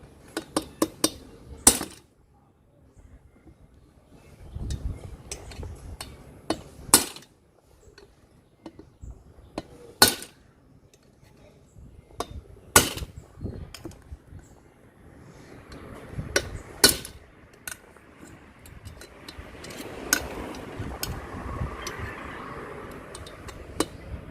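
The rocker arm shaft of a GX35 four-stroke engine being hammered out: sharp, isolated metallic knocks at irregular intervals, close by, with light clinks and rattling of parts between the blows.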